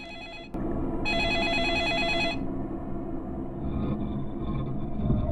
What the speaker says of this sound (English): Another phone call. Well, I guess we'll have to pick that up.